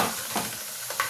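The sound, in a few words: sautéing tomato and onion in oil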